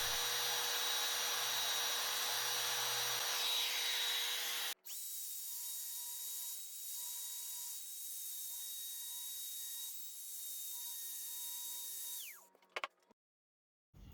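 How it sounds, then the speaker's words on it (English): A router cuts shallow holes into the foam core of a sailboat hull panel, a loud, continuous high whine that shifts pitch partway through and then cuts off near the end. "I flip the panel over and route out holes where the cleat bolts will pass through"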